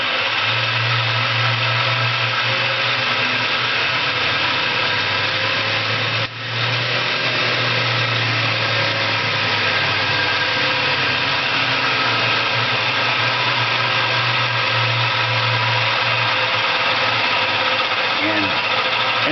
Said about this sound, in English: we will simulate this by running the motor